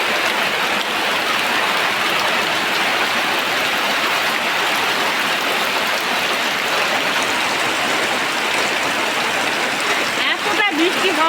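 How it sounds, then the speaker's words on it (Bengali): Heavy rain pours down steadily, a dense unbroken hiss of drops on surfaces that holds at a constant loud level for the whole stretch, with a brief clatter near the end. "এতটা বৃষ্টি হওয়া হচ্ছে দেখুন"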